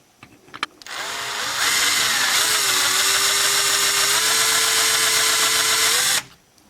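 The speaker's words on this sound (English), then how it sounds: "So we're going to take a larger bit to drill that out so we don't crack this plastic." Drill with a larger bit boring out a plastic rivet on a 1968 Matchbox No 1 Mercedes die-cast truck, a loud close steady motor whine of about five seconds that rises in speed, sags briefly, then stops abruptly.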